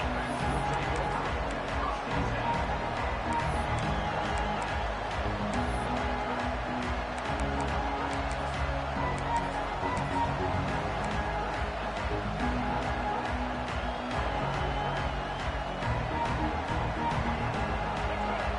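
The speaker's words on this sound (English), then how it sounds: "This crowd bringing the energy and noise early." Steady, dense roar of a large stadium crowd at a football game, filling the space, continuous and loud throughout, with indistinct voices blended in.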